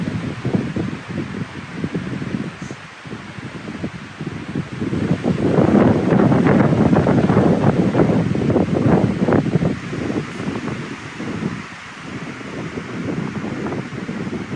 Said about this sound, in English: Wind is blowing pretty good today.